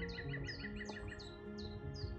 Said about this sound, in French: Là, il y a les oiseaux. Je suis dans la forêt